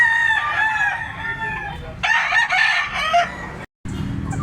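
A mature Lemon 84 bloodline gamecock crows loudly and close by, two long crowing calls in a row with hoarse rising harmonics, over rustling farmyard background noise.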